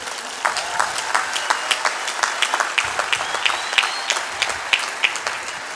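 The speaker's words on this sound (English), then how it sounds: "thank you for the applause" An audience claps steadily at a founders day speaker event in Akron, Ohio, with sharp individual claps clearly audible in a sustained round of applause.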